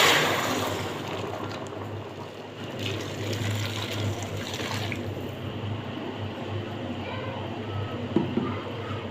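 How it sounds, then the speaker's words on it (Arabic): Boiling water poured into a pot of stuffed cabbage simmering with dried lemon, bay leaves and cardamom, a steady splashing pour running the whole length under a low hum, with someone talking over it. "هنحط يا حبايبي الميه المغليه اهي"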